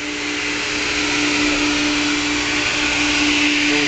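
An industrial wedge saw machine for cutting shims runs at a steady, loud, constant whine with a mechanical hum, unbroken and without talk over it.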